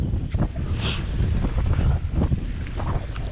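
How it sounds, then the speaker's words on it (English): Strong wind blowing at night on the water during a fishing trip, a steady rushing gust noise buffeting the microphone with no talk. "It got really windy out here"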